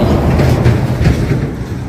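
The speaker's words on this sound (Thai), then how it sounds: "เสียงรถก็ดังแท้นี่" A loud train rumbling past close by, a heavy continuous low roar with faint rhythmic wheel clatter, steady throughout without talk.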